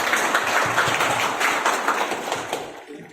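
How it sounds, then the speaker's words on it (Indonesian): Congregation clapping during a church anniversary service, a brief burst of fairly close applause with uneven rhythm that thins out and stops near the end. "Kita berikan tepuk tangan."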